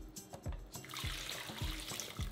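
Meat broth pours into tamale masa with a wet, trickling splash, punctuated by soft rhythmic low thuds about every half second, close and moderately quiet.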